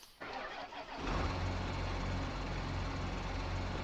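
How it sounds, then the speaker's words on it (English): A tractor engine in Farming Simulator 19 cranks briefly and then catches, settling into a steady, loud diesel idle that fills the rest of the clip with no talking. "So now we can go ahead and hop back in our tractor."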